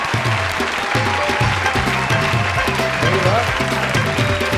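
An audience at a Pakistani TV show claps steadily as a team captain is welcomed, a dense and loud wash of applause throughout, with voices faintly mixed in.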